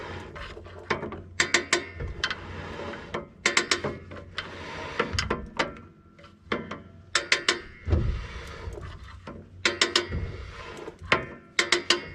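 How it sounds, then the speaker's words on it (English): Rapid ratcheting clicks come in bursts, with some dull clunks, as the brake shoes on the rear drum brakes of a 1993 Chevy K3500 dually are adjusted, close up and fairly quiet, with no talking. "These need to be adjusted until the brake shoes start rubbing."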